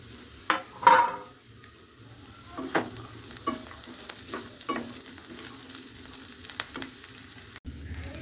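Onions and peas tipped together into hot oil in a kadai or wok for a drumstick-flower fry sizzle steadily, with a few sharp scraping stirs and clanks near the start, then quieter intermittent stirring.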